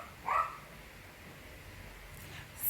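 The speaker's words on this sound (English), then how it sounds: "somebody could tell me why that dog barking." A dog barks faintly in the distance, one brief bark early on and another short sound near the end, against quiet room background.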